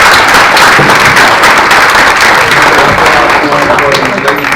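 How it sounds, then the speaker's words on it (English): Loud, dense applause from a mayoral debate audience in North Charleston, a steady wash of many hands clapping that carries on throughout with a murmur of crowd voices beneath. "Please give a round of applause to all"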